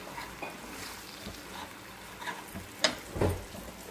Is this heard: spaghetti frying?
yes